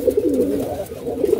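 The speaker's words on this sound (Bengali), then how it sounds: "কবুতরগুলো অনেক সুন্দর। একটা নর দেখা যাচ্ছে" Pigeons in a loft coo in soft, repeated throaty rolls, several birds overlapping close by in a steady murmuring chorus that runs throughout.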